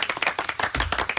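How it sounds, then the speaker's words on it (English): Studio audience applause on a talk show, a dense round of clapping filling the short moment, loud and close with no speech over it. "Round of applause for Jason Farrell."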